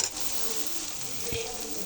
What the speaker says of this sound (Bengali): মশলাটা আমার খুব ভালো করে ভাজা হয়ে গেছে।